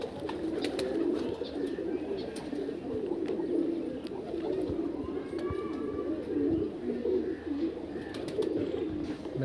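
Many pigeons in a loft in Aligarh, India coo together in a dense, continuous low burble, with occasional wing flutters and faint chirps nearby.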